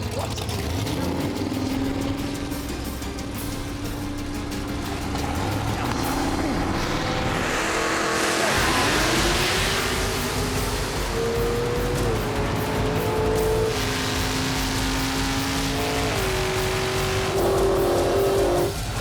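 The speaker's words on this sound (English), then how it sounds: "Let's see the burnout." A drag racing car does a burnout: a loud, continuous engine roar with rising and falling revs, mixed with screeching tires, lasting the whole stretch.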